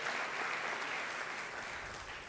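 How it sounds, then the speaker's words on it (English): An audience applauds continuously at a philanthropy conference, a dense, even wash of clapping heard at moderate distance with no speech over it. "Let's keep that applause going."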